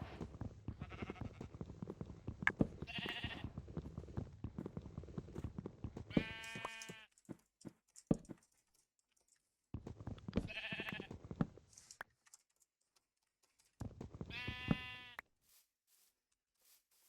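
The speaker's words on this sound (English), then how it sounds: "Pink sheep!" Pink sheep bleating in a video game, several bursts of harmonic bleats separated by short gaps, loud and close over a low rumbling game background.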